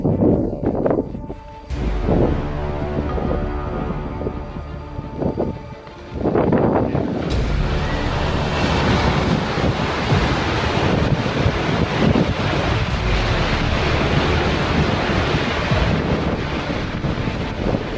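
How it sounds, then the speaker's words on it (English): Steady roaring wind buffets the microphone while a deep rumbling crash of glacier ice and water against rocks in the French Alps swells underneath, continuous and loud throughout. "the sound of the wind and ice crashing against the rocks"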